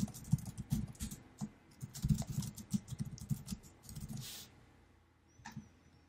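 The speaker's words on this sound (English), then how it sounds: "I'm going to type in a comment for it." Computer keyboard being typed on close up, irregular clusters of clicking keystrokes with short gaps, thinning out toward the end.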